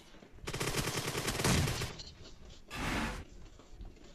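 Groza assault rifle fire in a shooter video game: a long sustained automatic burst, a brief pause, then a second shorter burst, loud and close with no voices over it.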